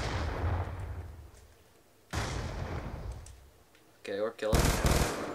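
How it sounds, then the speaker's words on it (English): Black Ops 2 three-shot burst rifle fires in short, loud bursts, each cluster of rapid cracks separated by pauses, with a voice speaking briefly between them. "I really like this gun. It's a three-shot burst."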